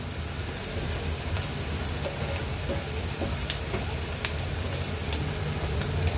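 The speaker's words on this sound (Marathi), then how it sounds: "अगदी 1 मिनिटासाठी मी हे तेलावर परतून घेते व्यवस्थित" Turmeric and spice masala frying in oil for an Agri Koli–style dried Bombay duck curry, giving a steady, dense crackling sizzle with scattered sharper pops throughout, close and even.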